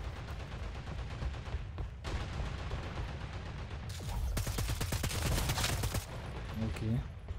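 Gunfire in the online shooter game Caliber, rapid automatic bursts of shots around mid-clip over a constant game ambience, moderately loud, with a voice speaking briefly.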